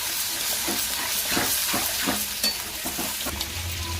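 Patol (pointed gourd) frying with masala in a pan, a dense close sizzle broken by a regular series of scraping stirs from a spoon, no talking.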